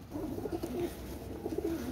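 A black Saharanpuri pigeon with cream eyes gives two soft, rolling coo phrases, fairly quiet and close, over a faint steady background.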